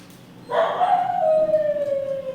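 A dog lets out a long, drawn-out howling bark that slides downward in pitch, fairly close and loud, with no talking.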